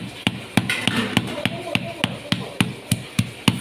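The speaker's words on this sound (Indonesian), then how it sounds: "Udah setengah halus kita geprek lengkuas." Galangal is smashed for a Betawi tofu and tempeh stew as a run of sharp, evenly spaced knocks, about a dozen crisp hits close by in a steady rhythm.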